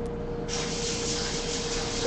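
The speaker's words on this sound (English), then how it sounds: "Some nice cooking spray here." Cooking spray from an aerosol can in a home kitchen: a close, steady hiss that starts abruptly and holds for about a second and a half.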